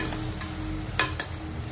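Green chillies and onion frying in a pan for Maharashtrian tur dal onion curry, a soft steady sizzle with a few brief stirring clicks and scrapes, close and alone.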